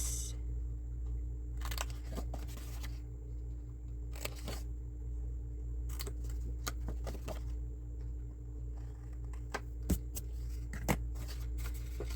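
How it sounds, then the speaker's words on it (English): Scattered crisp snips and crunchy cuts of paper, irregular and close, over a steady low hum with no talking. "All right, scissors, and then we can taper this a smidge"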